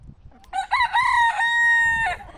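A rooster crows once among hens, loud and close, a long rising then sustained call lasting about a second and a half, with faint farmyard noise around it.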